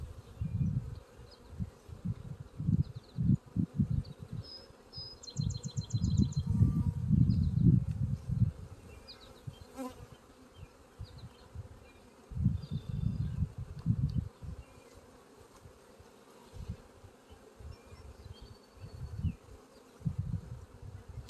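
Honey bees around a hive, a cloud of low buzzing that swells and fades as insects pass close, in bursts over a quiet outdoor background with faint birdsong.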